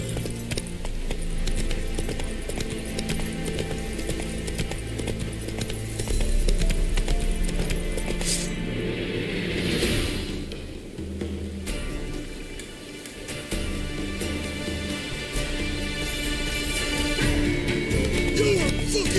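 Horse hooves clip-clopping at a steady trot in The Witcher 3, a continuous rhythmic beat under loud game music and ambience, with occasional jingling tack.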